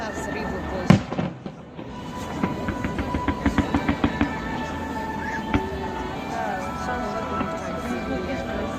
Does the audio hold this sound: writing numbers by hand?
no